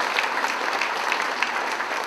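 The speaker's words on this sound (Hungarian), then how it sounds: "egy nagy tapsot megérdemel a Karcsi." Steady, dense applause from a crowd at a farewell concert during a retirees' club ball, filling the room evenly at moderate loudness with no talk over it.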